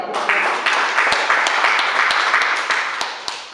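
An audience at a Yoruba World Assembly gathering breaks into applause, a dense and steady patter of many hands clapping close by, holding at even loudness for a few seconds with no talk.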